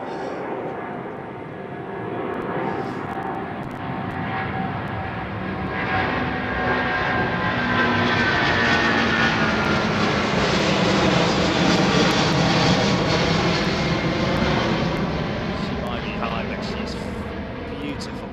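An airliner with Rolls-Royce Trent engines passes at London Heathrow runway 09R, a loud, sustained jet roar that swells slowly and then eases off.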